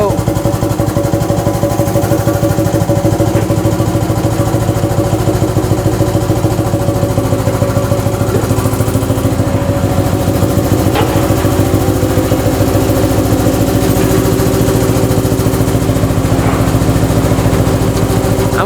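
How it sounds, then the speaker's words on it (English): An ATEX pneumatic drum mixer for 200-litre drums runs at higher speed, giving a steady, loud air-driven drone with a constant mechanical hum and vibration that holds unchanged throughout. "And we can leave the mixer running for hours if need be."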